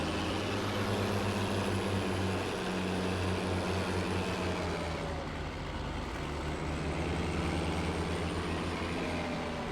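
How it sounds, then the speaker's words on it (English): A tractor engine in Farming Simulator 19 runs loud and continuous, a heavy rumbling drone with a steady pitch that dips slightly midway, with no voices over it. "I got to be careful because when I rank on this thing's loud."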